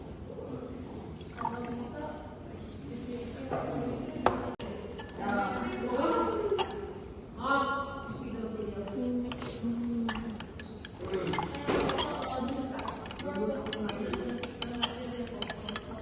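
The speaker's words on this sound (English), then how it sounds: "repeat the same process for calcium chloride and stir" Calcium chloride solution stirred in glassware for a school chemistry project gives light, irregular clinks and ticks of glass, set against a steady background of voices.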